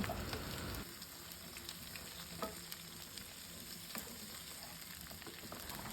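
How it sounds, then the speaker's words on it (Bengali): Carrot, potato and pumpkin fry together in oil in a wok, a steady close sizzle that starts louder with a stir, then settles into a continuous crackling hiss with light spatter pops and no voices. "খুব ভালো করে সব কিছু একসাথে ভাজা ভাজা করে নেব"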